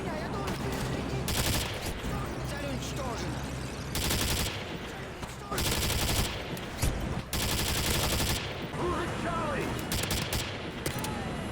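Bursts of automatic gunfire from Call of Duty gameplay come in several loud, sustained volleys separated by short pauses, with a busy background of game sounds throughout.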